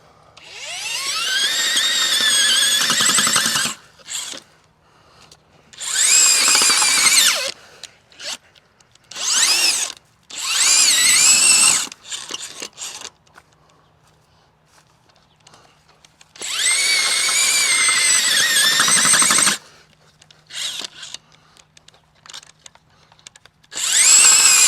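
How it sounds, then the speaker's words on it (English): A 9-inch power auger on a power drill bores into the ground in several loud, grinding bursts separated by pauses. "Power auger and power drill."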